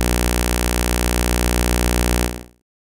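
An alarm siren sounding as a dense, buzzing continuous tone at steady loudness for over two seconds, then cutting off and fading quickly to silence.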